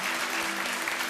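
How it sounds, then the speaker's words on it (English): Brief burst of steady audience applause after a dance performance at the Eurovision Young Dancers 2013 contest, dense clapping from a large crowd. "Another good applause from the audience"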